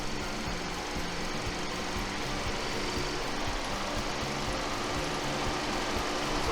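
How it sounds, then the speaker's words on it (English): A Kia K5 car engine idling with modifications, a steady low mechanical hum with a faint rhythmic pulse, even and unbroken throughout, no one speaking. "So that is obviously just idling"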